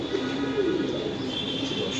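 Racing pigeons coo softly nearby, a brief low murmuring call over a quiet background hum.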